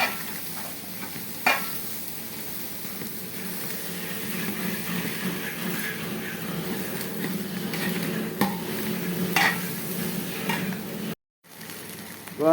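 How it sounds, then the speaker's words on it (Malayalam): Grated coconut roasts in a pan for homemade sambar powder, a steady close sizzle with a spatula scraping and stirring through it, broken by a brief silence near the end. "ഇപ്പോൾ നാളികേരം നന്നായി മൂത്തിരിക്കുകയാണ്"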